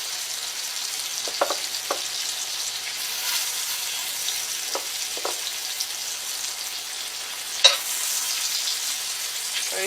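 Shrimp frying in a pan, a steady close hiss of sizzling oil with a few light taps and one sharp clink near the end, no talking over it.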